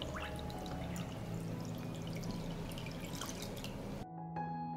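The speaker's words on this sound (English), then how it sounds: "I pour water into the pot up to the height of the lid." Water is poured into a large pot holding jars set on a cloth, ready for pasteurizing, a steady, fairly faint rushing pour lasting about four seconds before it cuts off, with no talking.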